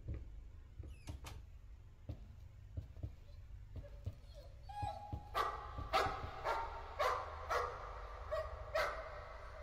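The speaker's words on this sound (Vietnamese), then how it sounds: "Con chó đang sủa hả? Trong bức tranh nó đang sủa hả?" In the horror game Layers of Fear, a dog barks from inside a painting. Faint clicks and knocks come first, then a rhythmic run of sharp, muffled barks fills the second half at moderate distance.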